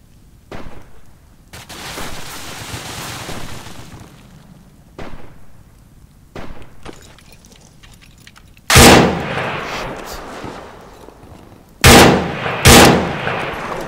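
Gunfire in the video game Arma 3 during Warfare capture-the-island multiplayer. Scattered distant shots give way to loud, sharp close bursts near the end, with faint rumbling between.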